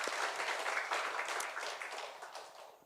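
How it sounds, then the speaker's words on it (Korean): A church congregation applauding together during a Sunday service, a dense wash of many hands clapping at moderate distance, fading slightly toward the end. "우리 함께 영광의 박수 올려드리겠습니다."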